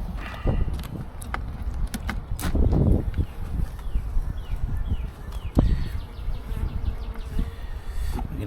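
Honeybees buzz steadily around an open hive during an inspection, close and persistent, with occasional bumps and handling noises of frames mixed in.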